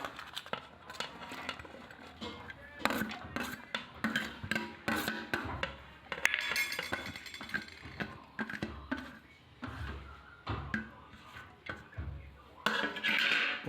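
A spoon scrapes and clinks against a bowl, mixing egg paniyaram batter with chopped onion and curry leaves, making a close, irregular run of metallic taps and stirring scrapes with no voices.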